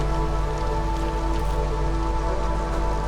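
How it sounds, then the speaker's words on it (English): Steady, dense storm rain from the video game Against the Storm, a continuous hiss of heavy rainfall pattering on surfaces, loud and unbroken throughout with no voices. "We just have to get through this harsh storm."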